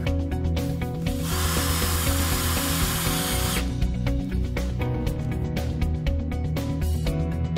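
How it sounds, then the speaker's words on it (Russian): Self-tapping screws are driven by a power drill to fasten the end parts of a DROP greenhouse, with a sustained whirring burst in the middle and shorter drill pulses and clicks around it, heard close and alone. "Скрепляем детали торца саморезами."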